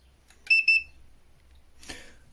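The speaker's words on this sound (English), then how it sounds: "I need to check the manual to see if we can disable the beep" A PeakTech P 4940 mini infrared thermometer gives two short, sharp high-pitched beeps in quick succession, close and clear in a quiet room, followed by a faint click.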